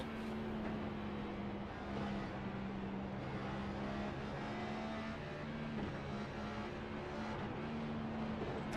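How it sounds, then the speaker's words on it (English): NASCAR stock car in the iRacing sim at Bristol drones steadily at high revs, its engine tone dipping briefly at each shift between fourth and fifth gear, with no talking over it. "As you can hear, he is shifting in between fourth and fifth."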